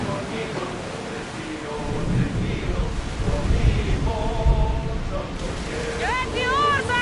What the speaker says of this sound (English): Commander, there's a storm!